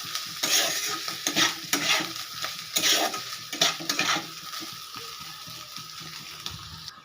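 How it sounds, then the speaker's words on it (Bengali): Teasel gourd frying in a pan with grated coconut and sugar, a close sizzle broken by repeated rhythmic stirring scrapes and spatula taps that settle into a quieter hiss toward the end, with no voices. "এবারে এটাকে আমি ভালো করে ভেজে নেব"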